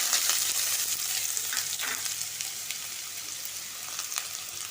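Onion fries in hot oil with a continuous close sizzle and crackle, and occasional stirring scrapes throughout.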